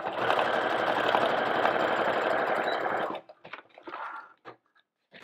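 A sewing machine stitches decorative threads down the side of a handmade gift card holder, running steadily and loud for about three seconds before stopping, followed by a few faint handling sounds.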